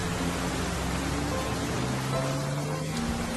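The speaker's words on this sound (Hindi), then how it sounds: "बारिश काफी हो रही है" Heavy rain pouring down in a steady, dense wash of hiss, constant and fairly loud, with faint tonal background music underneath and no voices.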